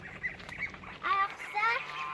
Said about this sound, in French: C'est des oies, moi, je pense, non?